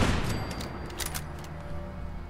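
Turret gunfire in Fallout 4, a brief burst of rapid sharp shots at moderate distance, fading into a short ringing tail.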